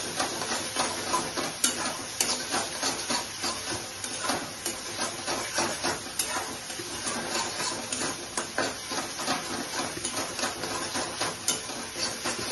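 Spiced masala with yogurt for soyabean kofta curry is stirred and fried in a pan, giving a continuous loud sizzle with rhythmic scraping strokes repeating over and over.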